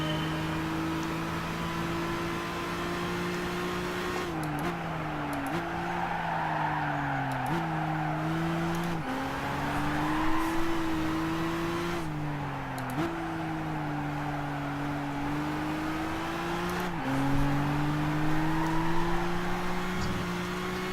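A race car in the GT Academy 2013 driving game gives a steady engine drone that steps down in pitch at repeated gear changes. A faint tire hiss runs underneath at moderate volume.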